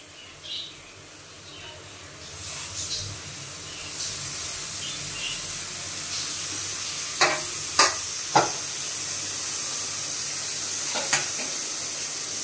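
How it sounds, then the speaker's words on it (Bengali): Grated coconut and sugar cook in a pan over a low flame for a festive sweet, giving a faint, soft sizzle broken by a few sharp scrapes of a spoon against the pan. "নারকেল কুড়ে রেখেছি, ওই কোড়া নারকেলটা আমি দিয়ে দিচ্ছি।"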